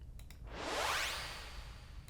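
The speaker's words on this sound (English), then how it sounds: "And I also have this quick uplifter here." A quick uplifter transition effect in Ableton Live: one smooth rising whoosh that sweeps upward in pitch, peaks at about one second and then thins into a fading airy tail.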